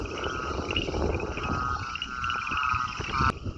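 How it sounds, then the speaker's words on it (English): Frogs croak loudly and continuously around a beach area in Brazil, in a dense chorus of overlapping rhythmic calls with a sharp click near the end. "Very loud croaking frogs everywhere here."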